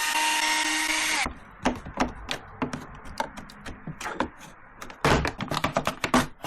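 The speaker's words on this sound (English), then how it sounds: "Remove these screws." Screws are being removed from a Kyosho Land Cruiser 60 RC car, giving a scattered series of small sharp clicks and taps at close range, quiet between hits, with a denser burst of clicking near the end.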